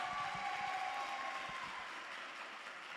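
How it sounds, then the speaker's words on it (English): Steady applause from an audience, a dense wash of clapping that holds through and eases slightly toward the end. "give you guys a lovely and a very loud round of applause"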